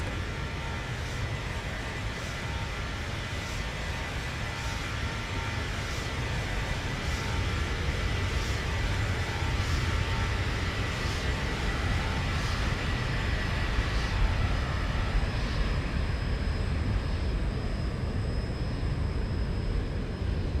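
Airliner flyby in a flight simulator running the Zibo mod: a continuous, steady roar of engines with a broad rushing hiss, holding fairly constant loudness for about twenty seconds.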